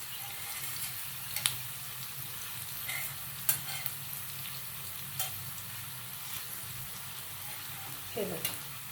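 Yam slices shallow fry in a pan for a suran fry, giving a soft, even sizzle with occasional small clicks and taps as the pieces are turned.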